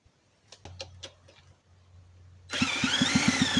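A moped engine fires up after several faint clicks and clunks, then runs steadily at close range with a rapid, throbbing putter.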